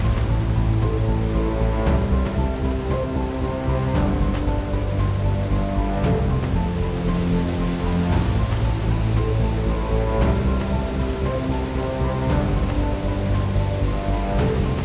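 A waterfall pours in a steady, dense roar that stays loud and unbroken throughout, with no voices over it.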